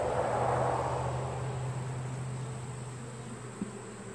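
Honeybees hum steadily at the entrance of a hive while foragers carry in pollen in August. The buzz is continuous and close, with a low drone that thins slightly toward the end, and no voices are heard.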